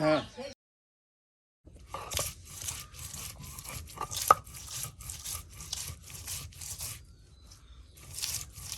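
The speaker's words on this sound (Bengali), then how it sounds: "জিরা রসুন পেঁয়াজ একসাথে সব দেখুন পাটায় ফেসে নেওয়া হচ্ছে" Cumin, garlic and onion are ground on a stone slab (pata) in a village kitchen, with rhythmic rough scraping strokes repeating up close after a brief silent gap.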